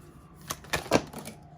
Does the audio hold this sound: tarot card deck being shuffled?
yes